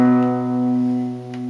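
A guitar chord from the bridge of a song rings out once and sustains steadily, close and clear, with no talking over it.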